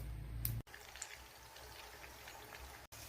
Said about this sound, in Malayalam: കുറച്ച് വെള്ളം കൂടി ഞാൻ ചേർത്ത് കൊടുത്തിട്ടുണ്ട്.